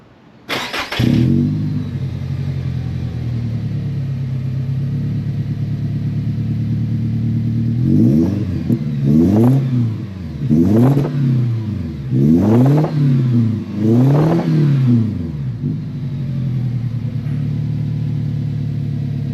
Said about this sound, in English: that's the startup of the vehicle